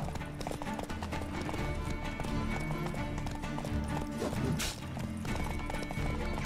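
A horse gallops in The Witcher 3 video game, with rapid, continuous hoofbeats close up, layered over busy in-game background sound, and a brief sharp accent midway.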